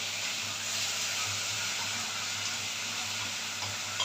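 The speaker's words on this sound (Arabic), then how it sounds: "نقلي كده شويه بطاطس." Potato pieces fry in hot oil with a steady, close sizzling hiss that continues evenly from start to finish with no talking.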